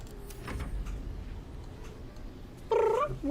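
A domestic cat purrs softly up close, a quiet, low rumbling texture. Near the end it breaks into a short, louder meow-like call.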